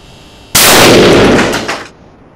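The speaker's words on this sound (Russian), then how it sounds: "Взрыв и состояние бутылки явно показывают опасность этой смеси." An ignited mixture of gasoline vapour and oxygen bursts inside a bottle in a single loud, sudden blast, followed by a roaring rush that fades away over about a second and a half.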